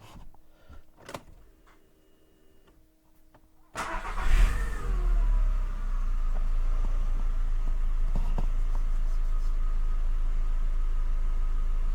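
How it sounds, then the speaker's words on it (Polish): A Skoda Octavia 2 1.6 MPI (BSE) engine cranks and catches, revving up briefly before settling into a steady, close idle rumble. "Zapalmy ten samochód w ogóle."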